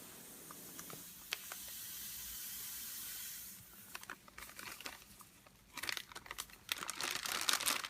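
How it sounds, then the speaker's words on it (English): Sand pouring into a box, a soft hiss followed by irregular gritty patter and crinkling, close and fairly quiet. "Kitty hears the sand pouring into the box."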